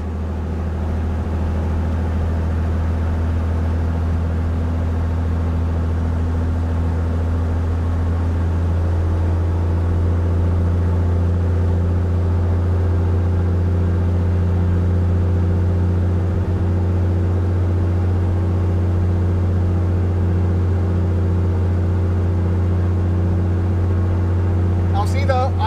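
A propeller aircraft engine holds a steady drone during a ground run-up, its tone shifting upward partway through as RPM increases, close and continuous, with someone speaking over it.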